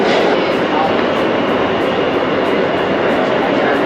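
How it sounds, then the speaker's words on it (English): A loud, steady rushing roar of a New York City D subway train arriving at the platform, with faint rhythmic clatter and speech barely audible under the noise. "there's our train coming, the D train"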